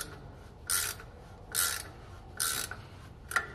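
A ratchet wrench cranks loose a semi-truck brake chamber in four short bursts of rapid clicking, each about a quarter second long, close and crisp with pauses between.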